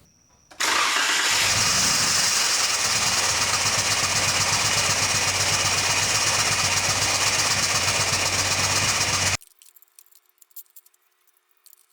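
A Jeep engine with a sensor unplugged starts and runs steadily at a loud, rough idle for several seconds, then cuts off abruptly into near silence.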